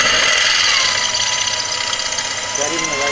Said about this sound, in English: Yeah, I drill that out for you, bro.